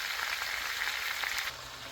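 Meat sizzling in oil in a pan while cooking humba, a steady broadband crackle and hiss close by that softens slightly partway through.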